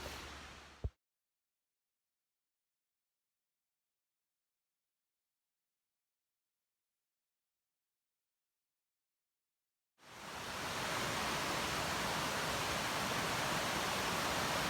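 Noland Creek flowing as a mountain stream: a brief burst of rushing water, a long dead-silent gap, then a steady, full broadband rush of water that continues strongly to the end.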